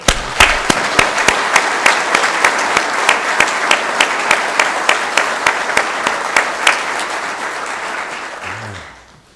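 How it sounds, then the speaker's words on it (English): An audience applauds at a retirement ceremony for Bill Fallon, a loud, sustained burst of dense clapping with a steady rhythmic beat running through it, lasting several seconds before fading out. "So let's give Bill Fallon a round of applause."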